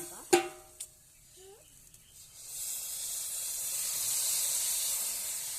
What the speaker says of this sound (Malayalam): കുറച്ച് വെള്ളം അങ്ങോട്ട് ചേർത്ത് കൊടുക്കാം